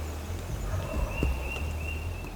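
A distant wild turkey gobble rises out of a dawn chorus of other birds, faint and far off, from roosted toms a couple hundred yards away.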